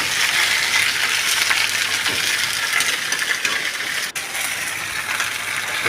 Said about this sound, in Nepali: कराईमा हालेर भुटिँदैछ